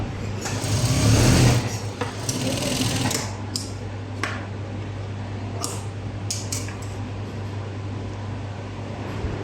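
Sewing machine stitching a straight seam on a blouse at a half-inch guide, a loud motor whir in the first two seconds that then fades to a quieter hum with a few sharp clicks.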